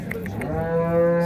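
A red cow at a livestock market lets out a single close, drawn-out low moo that swells louder toward its end, with faint market noise beneath.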